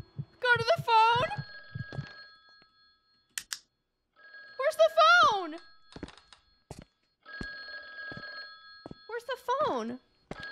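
A telephone rings in the horror game The Guest, three loud bursts of a steady electronic bell spread across the stretch, with an excited voice talking in between.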